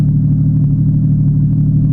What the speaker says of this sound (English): If you're rolling and you have full extension on the steering wheel, the car knocks a little bit